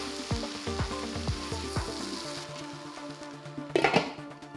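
Eggplants frying in oil in a pan, stirred with several scraping strokes at first, then a steady close sizzle, with a louder burst of clattering and spattering near the end.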